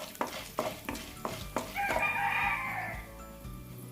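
Black pepper stirred and sautéed in a pan for amaranth stem chutney, with several sharp spatula scrapes in a steady rhythm, then a brief bright burst of frying before the scraping resumes, close and clear with no talking.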